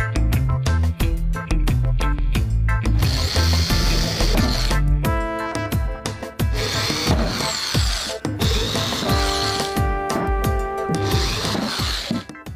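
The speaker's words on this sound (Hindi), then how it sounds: "ताकि हम यहाँ पर स्क्रू कस सके।" A power tool drives screws to mount a DC fan on a homemade room heater, with loud bursts of whirring and ratcheting close by, interrupted by brief pauses and fast repeated clicks.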